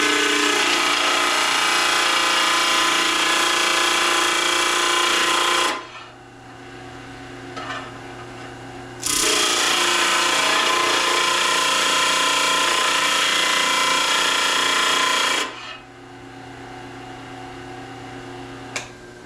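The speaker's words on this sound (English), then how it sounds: "clean these up a little bit on the grinder or sander" Bursts of harsh grinding or sanding on freshly cut metal pieces in a shop, two long loud runs of about six seconds each separated by quiet pauses, with no talking.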